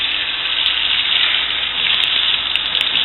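Running water gushes loudly and steadily over a burning item pulled from a microwave, with a faint sizzle mixed into the hiss and no voices.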